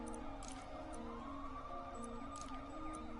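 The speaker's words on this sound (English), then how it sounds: "I can still hear all the sirens." Police sirens wail steadily in the Spider-Man video game, several overlapping tones rising and falling continuously at moderate distance, with no voices over them.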